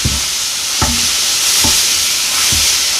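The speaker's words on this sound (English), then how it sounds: "So now we are to brown the ground meat." Ground meat sizzling as it browns in an Instant Pot, a loud steady frying hiss broken by four evenly spaced scraping stirs of a utensil against the pot.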